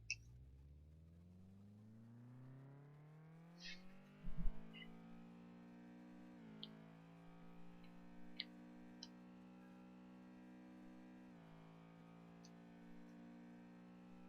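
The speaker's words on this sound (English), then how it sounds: "if we'll take it on the dyno here, it's only good for like 120" An in-game car engine runs on a dyno in the racing video game Juiced, a steady harmonic drone that revs up and settles, with faint clicks and a brief thump partway through.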